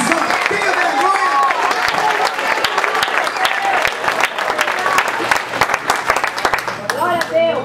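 A church congregation at a Sunday missions service claps loudly and steadily, sharp hand claps layered over a preacher's voice talking and shouting throughout.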